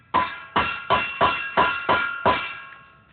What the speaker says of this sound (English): got this little tiny hammer right here I'm going to use.